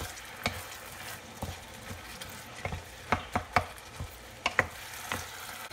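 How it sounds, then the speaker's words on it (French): Red bell pepper and filling being sautéed in a pan for Moroccan stuffed batbout bread, with soft sizzling under repeated sharp scrapes and taps of a utensil stirring, all fairly quiet. "je vais laisser revenir tout ça comme il faut avant de farcir le pain"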